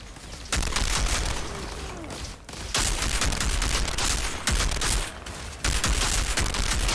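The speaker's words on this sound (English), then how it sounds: "I have mortar fire. Oh, man, and a sniper." Mortar fire and sniper gunfire in the video game Outriders, a dense, loud barrage of shots and blasts arriving in sustained surges separated by short lulls.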